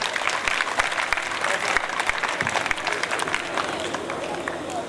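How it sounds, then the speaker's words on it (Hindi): Audience applause at a block-level youth programme in Rajasthan, a dense crowd clapping steadily and loudly for the whole stretch, with no voices breaking through. "जोरदार तालियां।"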